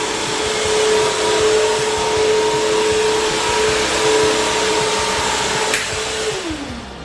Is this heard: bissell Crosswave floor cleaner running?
yes